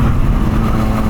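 A motorcycle engine revs loud and close in one brief, dense, continuous burst, with nothing else audible.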